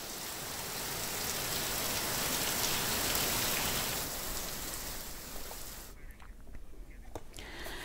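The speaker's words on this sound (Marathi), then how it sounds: "अंबरनाथ शहरामध्ये पावसाचा जोर कायम असल्याचं पाहायला मिळालं" Heavy rain pours down in Ambernath city, a dense, steady hiss of rainfall on surfaces that stays loud and continuous before thinning noticeably toward the end.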